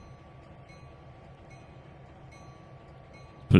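A train locomotive in the Trainz 2022 simulation game rolls with a quiet low rumble and faint rhythmic clicks, ending in a sudden loud burst of noise.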